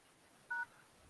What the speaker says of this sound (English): Ooh, someone's dialing their phone.